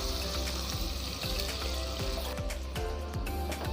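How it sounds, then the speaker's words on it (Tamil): Chopped onions fry in a pan for mushroom biryani, giving a steady, close sizzle with soft crackles and occasional stirring knocks throughout. "வெங்காயத்தை நல்லா ஃப்ரை பண்ணிக்கோங்க."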